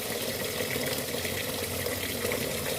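Water being poured over soaking rice for pulao, a steady even gush and splash of liquid close by, continuous for a few seconds with no talking.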